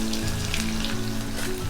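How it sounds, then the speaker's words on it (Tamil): Chopped large onion drops into hot oil with popped mustard seeds for avarakkai poriyal, a loud, steady, close sizzle and crackle of frying with no talk. "இப்போ நம்ம நறுக்கி எடுத்து வச்சுருக்கிற பெரிய வெங்காயத்தை ஆட் பண்ணிடலாம்."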